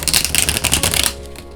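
A tarot card deck riffle-shuffled up close, a quick run of crisp, papery flutters and snaps for about a second that stops abruptly, leaving a quiet room.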